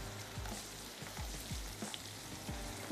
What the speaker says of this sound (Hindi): थोड़ा सा और इसको फ्राई होने देते हैं